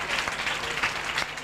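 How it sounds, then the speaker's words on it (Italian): Audience applause at a live Italian comedy show, a dense steady clapping from a crowd filling the whole moment, with no talk over it. "un applauso al Vienze"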